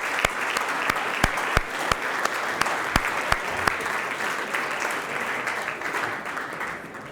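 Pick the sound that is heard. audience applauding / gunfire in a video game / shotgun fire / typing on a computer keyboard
audience applauding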